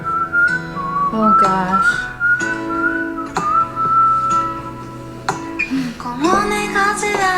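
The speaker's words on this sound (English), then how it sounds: "The whistle." Melodic whistling carries a tune in a song, heard clearly and loudly in sustained and sliding phrases over a music backing. A person briefly reacts with a short exclamation partway through.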